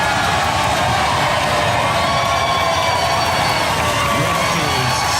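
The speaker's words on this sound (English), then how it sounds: "Give them a round of applause, ladies and gentlemen." A studio audience at a robot combat show applauds and cheers in a dense, continuous roar of clapping and shouts, loud and close throughout.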